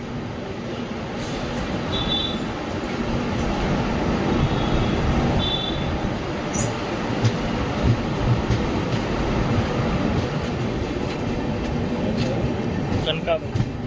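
Passenger train running along the Karnataka coast on a single line, a steady dense rumble of wheels and carriage noise heard from on board, continuous and fairly loud throughout, with occasional faint squeals and no clear speech.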